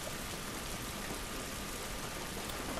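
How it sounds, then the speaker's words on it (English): Steady rain falls in The Last of Us Remastered, a dense even hiss with no pauses or voices. "But everyone enjoy the rain. It's our version of a shower."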